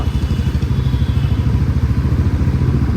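A Royal Enfield Bullet motorcycle engine thumps steadily at idle, close by, with a deep rapid rhythmic beat and a slight mechanical clatter.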